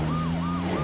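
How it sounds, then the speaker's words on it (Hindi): Police car siren wailing in steady rising and falling sweeps over a low engine hum, loud and close throughout, with no voices. "अरे वो देखो, पीछे पुलिस की गाड़ी।"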